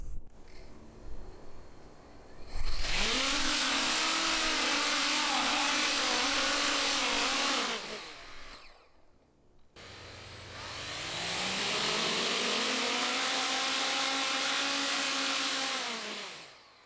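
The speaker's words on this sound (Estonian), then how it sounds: "See vajab täis gaasi, et maast lahti tõusta, nii et ma olen veidi mures, et mootorid võivad üle kuumeneda." Coanda effect drone motors run at full throttle in two long bursts, a loud rising electric whine with an overheating concern and a loose impeller, spinning up, holding steady, stopping briefly, then spinning up again.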